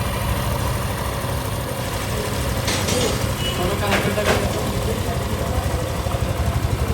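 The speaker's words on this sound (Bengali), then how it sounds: "তো ইঞ্জিনের শব্দ তো শুনলেনি, আপনাদের কাছে কেমন লাগতেছে জানাবেন" A motorcycle engine idles steadily after its first paid service, a continuous low rumble that stays even throughout amid constant workshop background noise.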